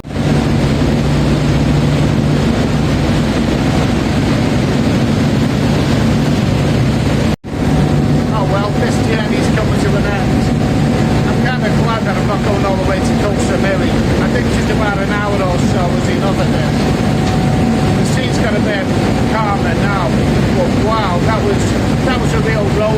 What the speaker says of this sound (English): it's raining right now and the sea's rough